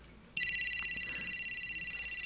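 A cellphone suddenly starts ringing nearby, a bright, steady electronic trill pulsing rapidly and continuously in an otherwise quiet room.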